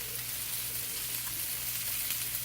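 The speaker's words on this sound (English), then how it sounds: "then I will sear my pork" Pork tenderloin searing in a hot pan gives a steady, close sizzle and crackle of frying meat, even and continuous throughout, with no talking.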